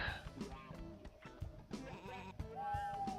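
Sheep bleating in the video game Sheep Raider, wavering bleats mixed with game music and sound effects, moderately loud.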